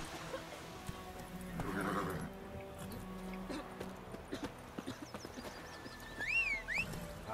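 A horse in The Witcher 3 video game neighs with a bright, rising-and-falling whinny near the end, after scattered hoof clops and soft movement noises in the game's background.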